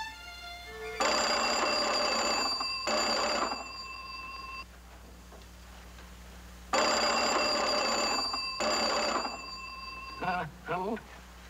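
An old-style telephone bell rings in two long bursts with a pause between them, loud and close, followed by a brief voice.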